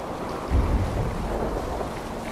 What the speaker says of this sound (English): Do not lose your course to the storm.